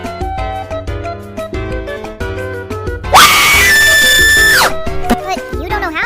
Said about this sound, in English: Ever wondered how people do this kind of scream?